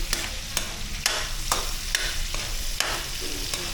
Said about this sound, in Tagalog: Itrito lang natin siya ng bahagya.